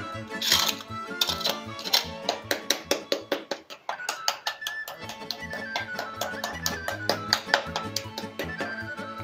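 Crispy roasted pork patties, baked at 200 degrees, crackle and pop up close in a dense, irregular run of sharp ticks and snaps that continues throughout.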